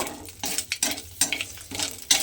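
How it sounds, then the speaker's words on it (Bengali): Whole garam masala and bay leaves sizzle and crackle in hot oil, close up, with repeated bursts of stirring scrapes against the pan. "তেজপাতা আর গোটা গরম মশলাটা দিয়ে একটু আমি ভাজা ভাজা করে নেব"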